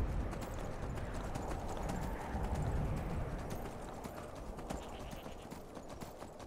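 Horse hooves clop steadily as a rider travels in the Skyrim video game, giving a continuous fast rhythm of soft thuds over a low rumbling ground noise, with no talking.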